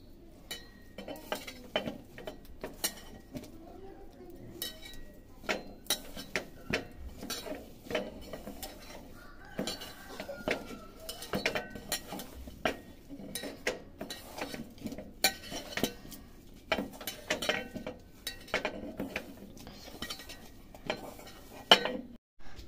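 A spoon clinks and scrapes around a bowl, mixing a kabab marinade of cornflour and spices. The irregular taps and knocks are close and fairly quiet, with no talking.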